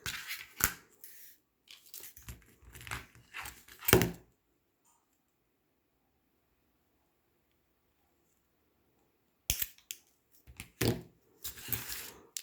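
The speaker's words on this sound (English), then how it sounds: "so we're going to snip it right there." Sharp snips of wire being cut for a wire-wrapped lampwork lentil bead necklace, a cluster of close, crisp clicks and handling noises, then a long quiet pause before another burst of snipping and rustling.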